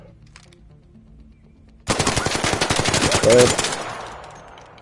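Uncontrolled automatic gunfire in Arc Raiders: a loud sustained burst of rapid shots starting abruptly and running about three seconds before a decaying tail, with a single spoken word near the start.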